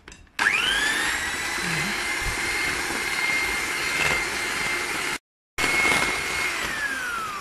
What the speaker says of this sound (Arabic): نشغل المضرب